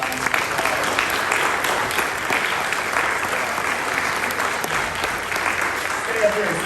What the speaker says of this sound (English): So we want to give her a round of applause.